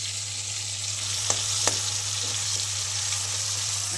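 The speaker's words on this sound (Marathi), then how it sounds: "चला सगळा मसाला पूर्ण भाजून द्या आता" Masala spices roast in a pan for a village-style goat head curry, a steady close sizzle and hiss with a low hum beneath and two soft clicks, no talking.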